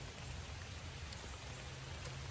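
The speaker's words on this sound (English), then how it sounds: "the rain is driving me insane" Steady rain falling outside, a constant hiss of drops with a low rumble beneath, faint and uniform throughout with no voices.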